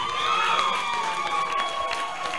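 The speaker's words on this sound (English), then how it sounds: "With a round of applause" Applause mixed with cheering and excited shouts from an audience at a girls' app development competition graduation, a busy crowd roar with whoops and high voices sustained throughout.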